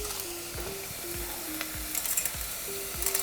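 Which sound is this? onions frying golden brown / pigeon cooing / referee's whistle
onions frying golden brown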